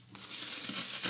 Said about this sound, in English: So I'm just gonna use the tear tab,